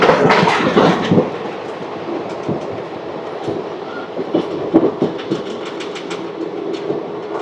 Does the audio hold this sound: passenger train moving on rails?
yes